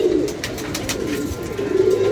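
Low, soft cooing of pigeons close by, repeated in a continuous murmur, with faint rustling in the background.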